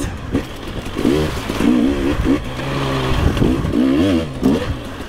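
An enduro motorcycle fitted with a Coober factory ECU revs up and down on a winding trail, its engine rising and falling in repeated close, loud bursts of acceleration.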